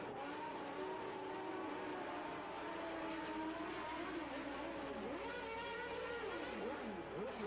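A McLaren Formula 1 race car in the pits at the British Grand Prix during Alain Prost's stop, engine tones rising and falling in sweeping pitch under a constant crowd and track roar, fairly distant.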